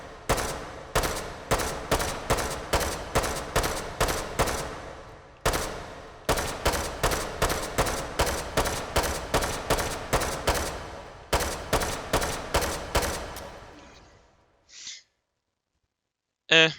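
AK rifle firing full-auto in the VR game H3VR, with steady rhythmic bursts of loud shots broken by short pauses, a long string of rounds that ends, then faint mechanical clicks and a last sharp clack.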